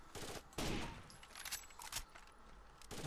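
Gunfire in the shooter game Rainbow Six: Vegas 2: a few faint bursts of shots with sharp reports, set against low background game noise.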